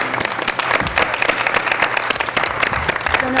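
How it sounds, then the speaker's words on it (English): Applause for graduating seniors at a school board meeting: a roomful of people clapping steadily and briskly, close and fairly loud throughout. "Round of applause for our seniors."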